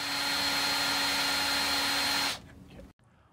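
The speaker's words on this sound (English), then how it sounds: "Now we will drill a 1/2 inch hole in there for the LED strip." A power drill boring a half-inch hole through a post for an LED strip runs as a steady, loud whine, then cuts off abruptly and leaves only quiet rustling and a faint click behind.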